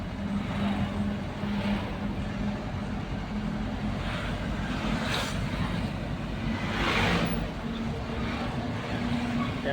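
Heavy road traffic in Hosur, a continuous wash of engine rumble and passing vehicles at moderate distance, with occasional louder swells as vehicles go by.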